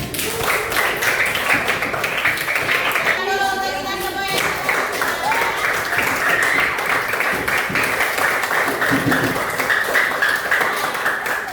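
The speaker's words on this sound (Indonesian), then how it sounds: "Oke, tepuk tangan." A class of students applauding in a classroom, dense, steady clapping that runs throughout, with a teacher's voice speaking over it and a short tonal chime partway through.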